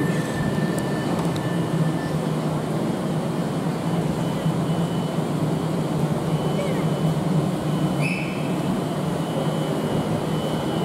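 An Avanti West Coast Class 390 electric train pulls out of Birmingham International station bound for London Euston, with a steady, loud, broad rumble and whine throughout and faint muffled voices in the background.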